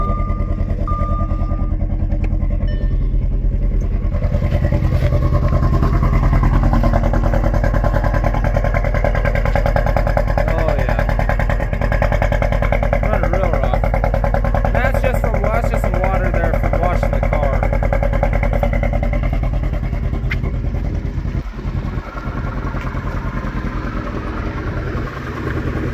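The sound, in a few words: engine of a 2009 Audi A4 Quattro 2.0T running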